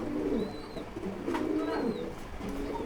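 A pair of Barhuma pigeons coo nearby in soft, repeated throaty rolls, with a couple of faint higher chirps drifting above the steady low burbling.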